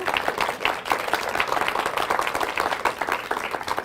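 Audience clapping fills a conference hall at the close of an educators' talk, a steady dense patter of many hands that stays loud and even throughout with no voices over it.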